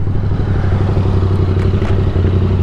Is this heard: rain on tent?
no